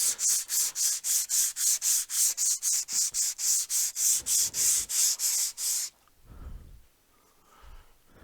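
Rhythmic back-and-forth sanding strokes on applied filler paste, steady and close, about three per second for six seconds, then stopping, followed by a few soft low thumps.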